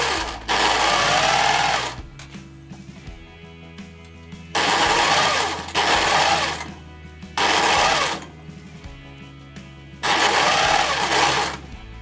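A sewing machine stitches a dress seam, running in four loud, steady bursts of rapid needle clatter separated by short pauses, with no talking.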